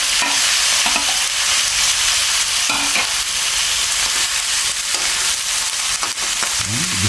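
String beans tossed into eel adobo simmering in coconut milk in a pan produce a loud, continuous sizzle and bubble, with occasional clatters of stirring throughout.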